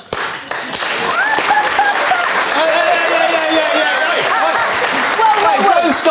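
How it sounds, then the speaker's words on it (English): Studio audience applauding through a comedy panel show, steady crowd clapping with laughter mixed in, while a voice talks over it at times. "Don't start applauding."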